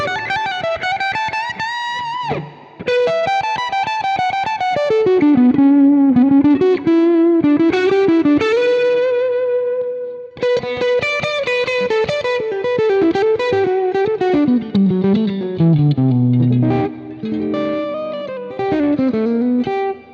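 An electric guitar with overdrive rings out sustained, distorted notes and chords in a loud, continuous phrase with short pauses, played alone without talk.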